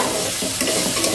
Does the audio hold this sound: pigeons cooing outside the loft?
no